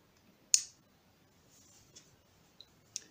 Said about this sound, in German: Ich mache jetzt erst einmal das Licht an.